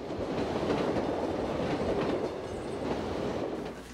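Commuter train rolling along the rails, a steady loud rumble with faint rhythmic clatter of wheels throughout, fading slightly near the end, with no voices.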